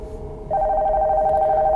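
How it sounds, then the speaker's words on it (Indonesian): A telephone upstairs in an abandoned house in the horror game Nocturnal Visit starts ringing partway through, a steady electronic trill that is clear and fairly loud after a brief quiet stretch. "Katanya telepon di atas itu bunyi ya"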